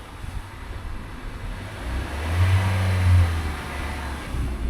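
A used car's engine with a check-engine light and a suspected bad bottom end, idling low and then revving up in a loud, swelling surge before easing back.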